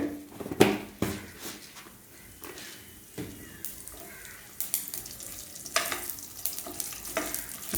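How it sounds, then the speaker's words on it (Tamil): Mustard seeds and urad dal frying in hot oil, popping and spluttering in irregular sharp bursts over a continuous sizzle, close by, with no voices. "கடுகு நல்லா பொரிஞ்சிருச்சு"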